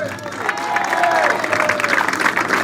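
Applause from a crowd at a ploughing contest prize ceremony in Saint-Jean, with clapping that stays steady and dense for a few seconds while a voice carries on over it.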